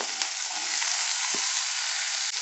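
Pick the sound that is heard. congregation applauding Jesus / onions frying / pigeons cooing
onions frying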